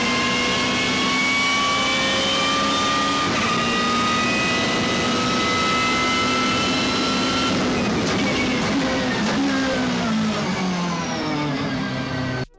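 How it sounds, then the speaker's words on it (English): BMW M3 GTR race car in Need for Speed Most Wanted roaring loudly and steadily, engine pitch climbing through gears with straight-cut gear whine, a brief shift near the end, then cutting off abruptly. "roaring engine and straight-cut gears that screams power and performance"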